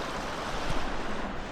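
Rain-swollen wilderness water rushes in a steady, broadband wash with no pauses, fairly close and continuous, faintly buffeted by wind, with no voices over it.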